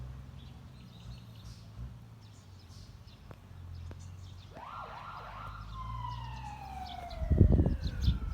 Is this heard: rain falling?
no